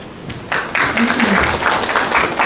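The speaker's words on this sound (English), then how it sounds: "Please give him a big round of applause." An audience at a medical lecture on ophthalmology breaks into clapping that swells after a quiet start, with a low voice murmuring underneath the applause.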